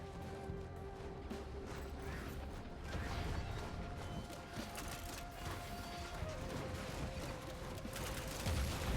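Automated turrets firing steadily in the sci-fi shooter Risk of Rain 2, a dense continuous clatter of mechanical shots layered with game effects, with no talking.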